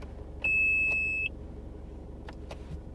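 A single steady electronic beep of just under a second from the parking sensor button of a 2019 Isuzu MU-X 4x4, clear and close over faint cabin hum, with no talking.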